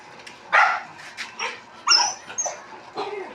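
A dog barks several times in short, sharp bursts with a few higher yips, fairly close and irregularly spaced.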